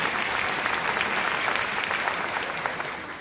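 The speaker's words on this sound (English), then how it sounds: "You can clap" A large audience at Akron's State of the City address claps steadily in a dense, continuous round of applause.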